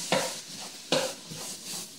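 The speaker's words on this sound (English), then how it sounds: "you can hear it starting to fry down" Ground meat sizzles in a pan, with two sharp scraping stirs punctuating the crackling frying noise, close up and without talk.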